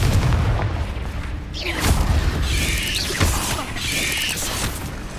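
Confringo fire-spell blasts from the Hogwarts Legacy video game: loud, dense booming explosions with crackling debris and whooshes, several bursts in a row, alone without talk.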